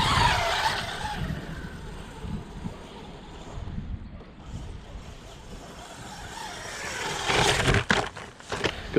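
A WLtoys 124012 RC truck with a 540 motor drives over cold, wet ground, tyres scrabbling and hissing with a rough, uneven roar that surges louder near the end.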